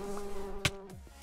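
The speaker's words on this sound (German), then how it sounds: "Geh weg, du blöde Wespe." A wasp buzzes close by with a steady droning hum for about a second, interrupted by a sharp bump partway through, with no talking.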